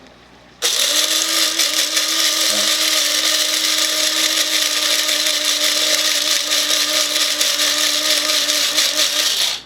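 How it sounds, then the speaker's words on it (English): A loud electric coffee grinder starts abruptly and runs with a steady, high whirring buzz, hard cracked corn kernels rattling inside for several seconds before it cuts off. "we're going to just grind it up in the coffee grinder."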